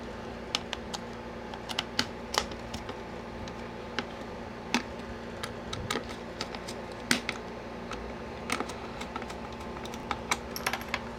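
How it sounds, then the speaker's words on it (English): Small screws being tightened into a Bally Astrocade controller case, a string of faint irregular clicks and ticks against a steady low background hum. "And tighten the screws down."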